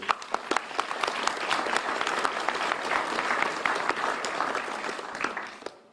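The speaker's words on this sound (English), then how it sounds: "that deserves a round of applause, too" A crowd applauds steadily at a Louisiana governor's press event, dense clapping filling the room before tapering off at the end.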